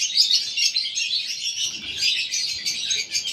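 Many small birds chirp and twitter continuously in an aviary housing pet birds, a dense, steady chorus of high calls close by with faint low movement underneath.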